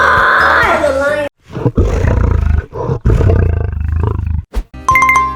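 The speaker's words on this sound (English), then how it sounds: "What sounds like a lion?" A lion gives a loud, close, drawn-out roar, with a voice speaking before and after it.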